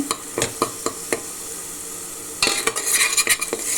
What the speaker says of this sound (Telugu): ఇట్లా బాగా తిప్పుతూ ఉంటే కలుసుకోకుండా ఉంటుంది